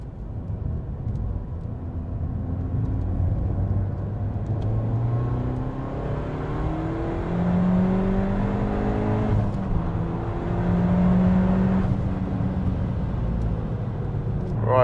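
A Peugeot 308 GTi driven flat out around Anglesey Circuit, its engine droning loud and steady from inside the car, pitch rising through the gears and dropping on shifts over about fifteen seconds.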